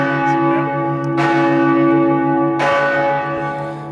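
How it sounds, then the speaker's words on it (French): Large basilica bells in a tower in Gdańsk ring at noon, very loud and close from just above them, with deep sustained tolls and two fresh strikes blooming over the lingering hum. "Heureusement, on était au-dessus des cloches parce qu'en dessous, ça doit être pire."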